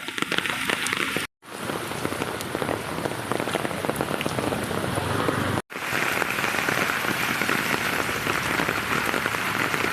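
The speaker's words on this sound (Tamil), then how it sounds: "இன்னும் மழை பெஞ்சிக்கிட்டே இருக்குது." Steady rain from Cyclone Fengal pours down onto surfaces in Chennai, a dense, hissing patter that fills the whole stretch, with two brief dropouts.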